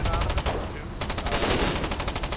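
A 40 mm cannon in a multiplayer war game, firing a rapid, regularly pulsing run of heavy shots at close range that pauses briefly and then resumes.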